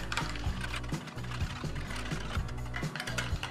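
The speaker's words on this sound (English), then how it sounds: "Give it all a real good whisk." Burger sauce being whisked in a bowl, a brisk, regular clatter of strokes roughly twice a second, close and continuous with no talking.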